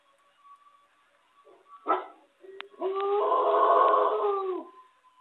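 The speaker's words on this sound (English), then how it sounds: "what you're hearing a little bit differently is that bark howl" Wolves in an exhibit pack giving a bark howl: a sharp gruff bark, a brief yip, then a sustained wavering howl with layered tones, heard fairly close against a quiet background.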